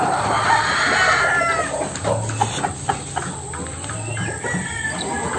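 White Hatch gamefowl chickens in battery cages clucking, several birds making soft repeated clucks and calls at moderate distance over a steady background hiss.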